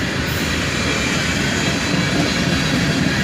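A CSX freight train rolls past, led by a Dash 8 (a CM40-8 rebuild) with an ES44AC-H trailing; close, loud, steady rumble and rattle of wheels and cars with no voices.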